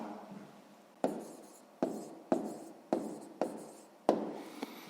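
A pen writes out a maths answer by hand on paper, a sequence of short scratchy strokes with sharp onsets, about seven in a row, close and quiet.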